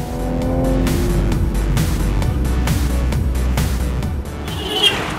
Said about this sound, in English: I am genuinely surprised as to how well the S5 handles itself when presented with bad roads